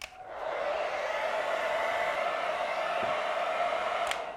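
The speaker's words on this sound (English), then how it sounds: "you can use a hair dryer" A hair dryer blows steadily over a freshly applied Venetian plaster patch, a close, even whirring hiss that starts up quickly and runs without a break.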